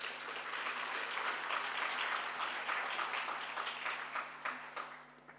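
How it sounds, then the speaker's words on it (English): Sustained audience applause fills a hall at a foundation's five-year anniversary celebration, steady and dense before thinning out toward the end, with a faint background hum. "Let's give him another warm round of applause."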